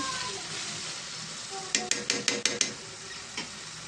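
Chopped tomatoes stirred into a sizzling village-style egg and dried fish curry in a pan, a steady fry hiss broken by a quick run of five or six sharp metal spoon scrapes and knocks against the pan.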